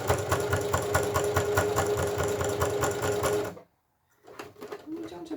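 A sewing machine stitches a boxy zipped pouch with a fast, even rattling hum up close, then stops abruptly, and after a brief silence stitching resumes.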